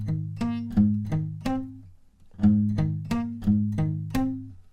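Acoustic guitar plays the G-shape riff, two bars of plucked notes and bass, a short pause, then the riff repeats; clear, close and alone.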